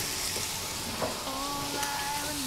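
Bacon frying in a pan in a home cooking setting, a steady soft sizzle with faint crackles and a few light utensil taps, no talking.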